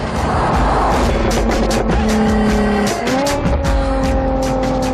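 A Jaguar F-Type sports car drives hard with a loud, continuous engine note shifting pitch, tires squealing briefly as it corners close by.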